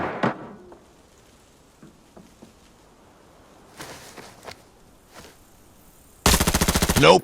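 Gunfire in the tactical shooter game Arena Breakout: a quiet stretch with a few faint clicks and soft thuds, then one loud, rapid automatic burst near the end.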